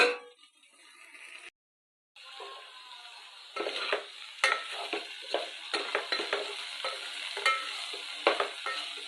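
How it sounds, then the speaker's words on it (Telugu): Okra pieces fry in a pan on medium flame for a curry, giving a steady sizzling hiss with frequent stirring scrapes and clinks of a utensil against the pan, close and fairly quiet, with no talking. "మన భెండీస్ ఈ విధంగా ఫ్రై అయ్యాయండి."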